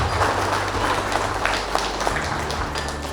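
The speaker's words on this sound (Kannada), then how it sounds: "ಒಂದು ಜೋರಾದ ಚಪ್ಪಾಳೆ ನಿಮ್ಮ ಮಕ್ಕಳಿಗೆ." Parents give loud, sustained applause for the children at a kindergarten graduation day in Chitradurga, a thick wash of clapping over a low room hum.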